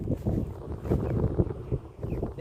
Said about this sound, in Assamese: বতাহটো গছজোপাৰ মাজেদি মানে ভাগে ভাগে সৰুকৈ যাব পাৰিছে